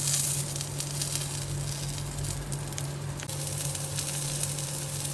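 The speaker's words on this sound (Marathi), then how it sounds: "झाकणे काढून याला पलटून घ्या. हे सर्व पलटून घ्या" Stuffed bitter gourds frying in oil over medium heat, giving a steady close sizzle with a low hum beneath and a faint shift partway through as they are turned.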